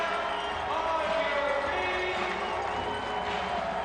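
A crowd fills an arena football game between Bossier-Shreveport and Tulsa in the 2002 AF2 season with a steady, dense roar that barely changes throughout, while a commentator talks over it.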